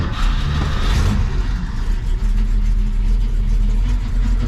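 A 1968 Ford Mustang engine runs steadily after starting, a continuous low rumbling idle with a brief rise in revs near the start, close and fairly loud with no speech over it.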